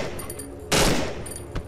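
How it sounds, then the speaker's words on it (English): A burst-fire machine pistol in the video game Cry of Fear lets off one short, loud burst of shots near the middle, with quieter game sounds before and after. "It is a, I believe it was a burst fire machine pistol."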